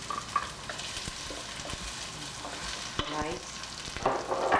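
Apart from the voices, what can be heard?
sautéing onion in a pan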